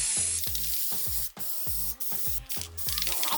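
White spray paint hisses from a can onto a feather mirror craft piece, a close and continuous spray with a few brief dips.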